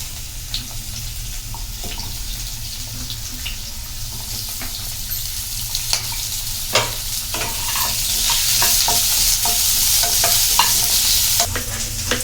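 Onions fry in hot oil with kasuri methi in a kadai, a continuous near sizzle that swells louder toward the end, broken by scattered spatula scrapes and taps, no talking.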